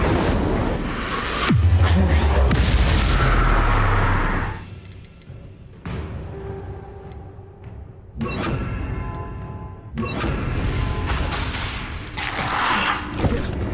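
Incendio fire spell cast in the video game Hogwarts Legacy, played on Nintendo Switch: a loud booming burst of flame with a deep thump, then lighter mechanical clatter and more bursts of in-game effects.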